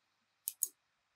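Two quick, crisp mouse clicks, close and quiet, land in near silence as the save button in a Microsoft Advertising account setup is pressed.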